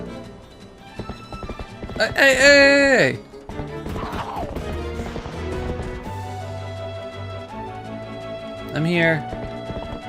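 A horse in Zelda: Twilight Princess neighs loudly and clip-clops, then neighs again near the end, as someone speaks over the hoofbeats.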